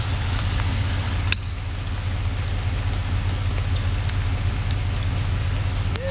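Rinse water flushes through an RV waste hose into a Rhino waste tank setup, a steady rushing wash with a low rumbling flow beneath and a few faint clicks, continuous throughout with no talking.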